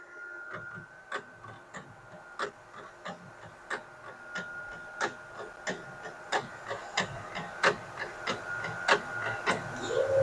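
Ricoh Ri4000 printer printing on plexiglass, a steady run of rhythmic mechanical ticks and clacks from the moving carriage over a low whirring hum, close and moderately loud, no talking.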